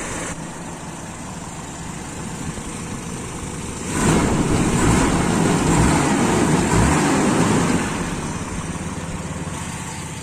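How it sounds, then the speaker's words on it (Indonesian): A warmed-up Toyota Kijang car engine idles steadily with a smooth, low hum up close. It grows slightly louder partway through and then settles back, with no talking. "suara mesin juga halus."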